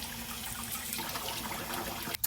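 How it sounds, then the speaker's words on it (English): Unbleached, unchlorinated well water runs steadily from a kitchen tap into a sink, a close, even rushing hiss with no talk, broken by a brief splash near the end. "I use my tap water because it's unbleached. It's well water"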